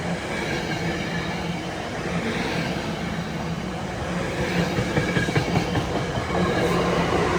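A SEPTA Silverliner V commuter train passes close by in a steady loud rush of wheel rumble and rhythmic clickety-clack, swelling slightly toward the end, with no voices.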